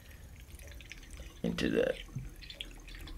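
Methylated spirits, or denatured alcohol, poured through a funnel during a children's chemistry kit experiment, a short close gurgling splash lasting about half a second, with people talking around it.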